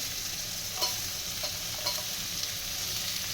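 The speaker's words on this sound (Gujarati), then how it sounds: "અંદર નાખી દઈએ ડુંગળી" Chopped onion frying in a hot pan for manchow soup, a steady close sizzle with a few soft stirring clicks and scrapes.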